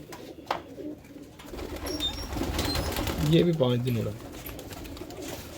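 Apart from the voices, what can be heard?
Mangola pigeons cooing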